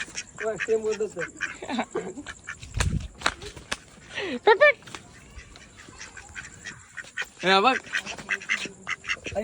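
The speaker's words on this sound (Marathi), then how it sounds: "हा छोटे बदक मोठा बदक बघा" Ducks quack in repeated bursts nearby in Alibag, mixed with someone talking over them and a few brief knocks.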